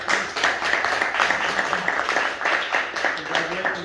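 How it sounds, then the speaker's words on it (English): A small meeting crowd claps for newly elected members, a few seconds of steady, moderately close applause with voices mixed in. "Round of applause for all the new elections."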